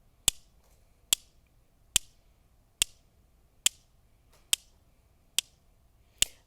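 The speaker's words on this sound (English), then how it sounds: "try to find two that are similar in size and that won't crumble when you hit them together" Two rocks of similar size knock together in a steady quarter-note beat for a Sioux lullaby, eight sharp, clean clacks evenly spaced and close, with no talking.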